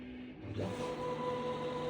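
A CNC machine homing its axes, its motors starting with a steady whine after a brief moment and holding at a constant pitch, close and fairly quiet.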